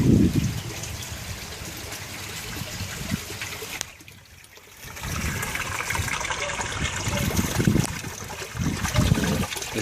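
Water draining and gurgling out of an aquaponics grow bed in a backyard system in Townsville, Queensland, a continuous trickling rush close by that briefly dips quieter before resuming, with no talk.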